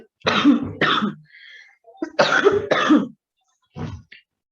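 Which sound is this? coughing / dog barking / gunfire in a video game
coughing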